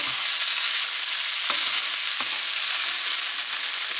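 Egg and chicken stir-fried in a hot pan, a bright steady sizzle with two short scraping stirs of the spatula partway through.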